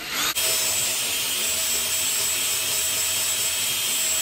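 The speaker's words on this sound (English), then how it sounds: "you're gonna wanna drill the one hole out bigger." A drill bores a hole into an ice sphere, a steady, loud, close whirring grind that starts abruptly and runs unbroken, with no talk.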